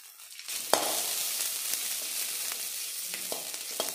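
Crushed garlic cloves hit hot sesame oil and break into a loud, continuous frying hiss after a brief quiet start, with a few light clicks and pops scattered through the sizzle.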